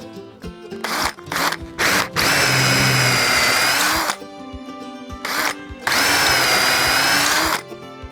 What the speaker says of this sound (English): I'm going to do the trimming for the seating of the brass tube